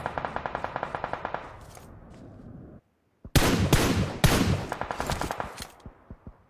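Gunfire in the mobile battle royale game PUBG Mobile: a rapid automatic burst that fades out, a brief silence, then loud clusters of sharp shots with tails between them, no talking.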